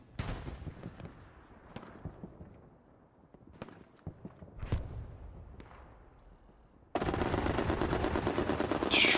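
Bursts of machine-gun fire rattle through a large-scale multiplayer war game battle on a rail causeway, scattered shots and distant booms giving way to a loud continuous strafing burst at the end.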